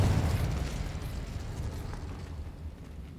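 Confringo explosive spell detonating in Hogwarts Legacy, a dense rumbling blast that starts loud and slowly fades into a low roar over a few seconds.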